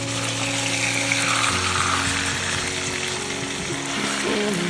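Garlic sizzles in a pan alongside a frozen AAA steak, a constant, fairly loud frying hiss partly covered by a song playing over it.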